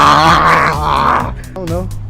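A man imitates a panther with his voice, producing a throaty, rasping growl-roar that rises and falls, then a second shorter growl, close and loud.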